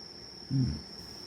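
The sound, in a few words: crickets and grass insects chirping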